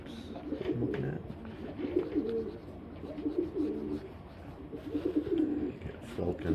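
Pigeons or doves coo in soft repeated phrases, mid-distance and fairly quiet, with other birds faintly calling in the background and a voice talking at times.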